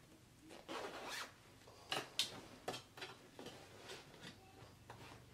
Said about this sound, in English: we can go ahead and close up our zipper.